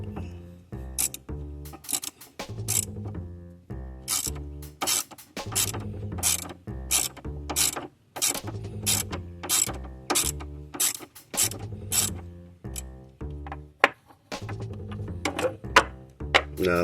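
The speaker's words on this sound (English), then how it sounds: "Now we'll remove the 8 millimeter mounting bolt." A ratchet working loose an 8 mm mounting bolt on a Chrysler 300 during a timing belt and water pump job, giving loud close rapid clicking runs in repeated bursts with brief pauses between strokes.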